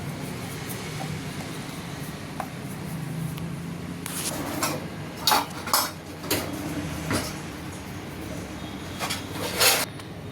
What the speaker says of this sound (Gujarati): આ રીતે આપણે એને વણી લઈશું